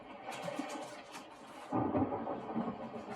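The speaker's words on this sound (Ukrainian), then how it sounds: "Ой, дощ почався." A thunderstorm rumbles low and steady outdoors, with a denser, louder swell of rumbling and rain hiss arriving midway as the rain starts.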